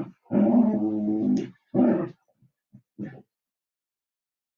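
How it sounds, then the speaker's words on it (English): A dog in a church during an Easter service makes a long whining, growling vocalization followed by several shorter whimpers and grumbles, close and alone with gaps of silence between. "What is that dog doing?"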